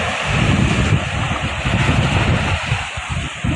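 Sea waves and wind off Manila Bay, a steady loud roar of surf with gusty wind buffeting the microphone, continuous and close throughout.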